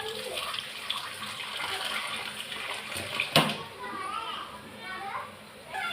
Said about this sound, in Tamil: இப்போ நான் புளியை ஊற்றிக்கிறேன்